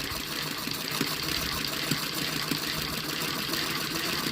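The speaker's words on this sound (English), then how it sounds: "it started sewing straight there" An antique Singer sewing machine stitching fabric, giving a steady, continuous mechanical whir with a faint rhythmic ticking throughout, close and moderately loud, with no voices.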